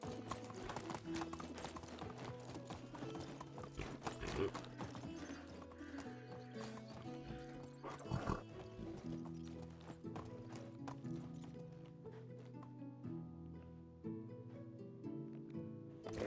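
Horse hooves clip-clop steadily with occasional whinnies in the Medieval Dynasty video game, the horse riding through the valley at night over a continuous dense bed of game music and ambience.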